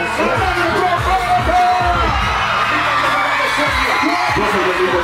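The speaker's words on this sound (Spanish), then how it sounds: "¡Y el aplauso fuerte!" A crowd at a live rap show in San Cristóbal cheers and whoops over booming bass beats, the noise dense and continuous throughout.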